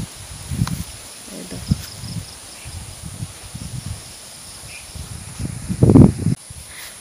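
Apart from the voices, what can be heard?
wind blowing outdoors on a cloudy morning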